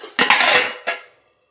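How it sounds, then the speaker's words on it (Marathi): A lid goes onto a pan of onion-tomato chutney with two sharp metallic clanks, the first ringing briefly and the second softer, then quiet. "चला आपण त्याच्यात आता झाकण ठेवून घेऊया."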